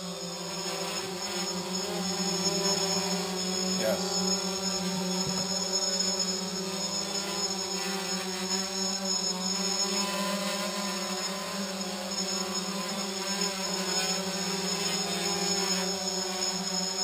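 A drone hovers and flies in ATI mode with GPS off during a failsafe test, its motors giving a constant loud whine with steady tones throughout, no talk.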